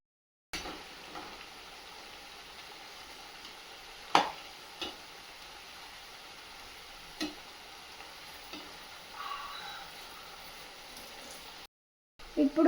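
Banana slices deep-frying in hot oil toward golden chips give a steady soft sizzle, broken by a few sharp clinks and scrapes of stirring, with no talk.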